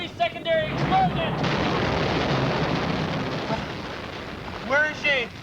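A sustained roaring explosion rumbles through a scene from a 1990s Hawaii public-access TV show, loud and broadband for several seconds, with shouted voices over the start and end.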